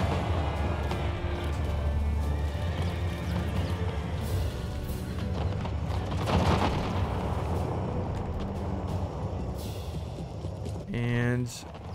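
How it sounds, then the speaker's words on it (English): Cannon fire rumbles in the Empire 2 Generals 3v3 battle game, a dense wall of booming artillery and gunfire that swells around the middle, with a voice talking over the din. "that's the cannon"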